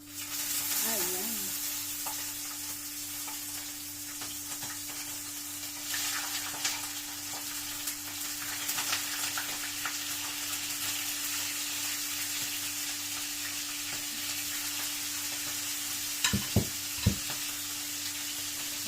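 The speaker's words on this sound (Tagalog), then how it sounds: "Ayan, nilagay na po natin ang isda." Fish sizzles steadily in hot oil in a pan, a continuous crackling fry with a few sharp pops and clinks near the end, while a low hum runs underneath.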